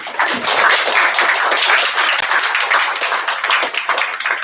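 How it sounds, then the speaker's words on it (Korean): An audience at a joint labour policy forum and advisory meeting claps loudly and steadily for the participants, a dense, close wash of hands throughout. "오늘 참여하신 모든 분들께 박수를 크게 한번 보내주십시오."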